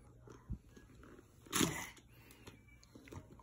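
A child bites and chews sweet potato up close, with a soft bite early, a louder crunchy bite in the middle and faint chewing afterward, all quiet and intimate.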